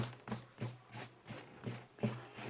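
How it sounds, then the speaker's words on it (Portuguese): A pencil eraser, held nearly flat, rubs out pencil lines on paper while a manga drawing is sketched: quick, close, faint back-and-forth scrubbing strokes in a steady rhythm, about eight passes. "Pode fazer assim também, ó, com a borracha meio deitadinha."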